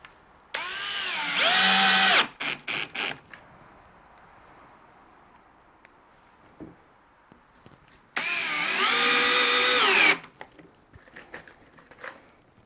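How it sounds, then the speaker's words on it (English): A power drill drives screws into a workbench top, two loud whirring bursts about two seconds each with rising pitch, separated by quieter clatter and tool clicks. "I'm just going to screw it down. So we'll start screwing."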